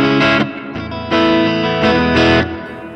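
Electric guitar with a dynamic hall reverb effect, played loud in chord stabs that swell and cut off, each leaving a lush, lingering reverb tail between hits.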